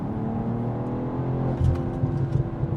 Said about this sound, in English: once it gets into the right gear, it can accelerate quite quickly from that 50 to 70 window